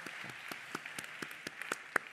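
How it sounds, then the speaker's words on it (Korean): Sparse, scattered handclaps from a church congregation of university students, a dozen or so separate claps spread over two seconds, fairly faint and thin rather than a full ovation. "큰 감사와 영광의 박수를 한번 올렸으면 좋겠습니다"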